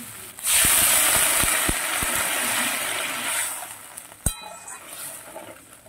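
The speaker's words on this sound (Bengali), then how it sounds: "এবারে আমি গরম করে রেখেছি জল, সেই জলটা দিয়ে দেবো।" Hot water poured into a pan of simmering potato, green banana and tomato fish curry gives a loud close hiss and splash for a few seconds, with soft knocks and a sharp clack near the end.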